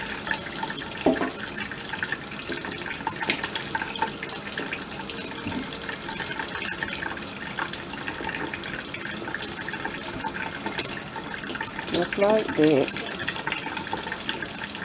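Tap water runs steadily into a sink with splashing and clatter as potatoes are rinsed under the stream; a voice speaks briefly over the flow.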